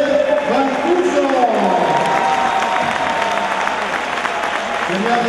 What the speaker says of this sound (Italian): Adesso vorrei sentire però un applauso, anche un altro forte per Giuseppe Mancuso.